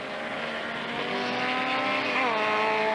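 1970s Formula Super Vee race cars howl past around a corner in a pack, engines blaring steadily with pitch shifting as they go by, with no voices.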